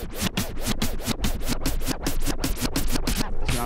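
A DJ scratches a vinyl record in time with a snare hit, making a quick, steady run of back-and-forth scratch strokes that stay close and loud throughout, with no talking.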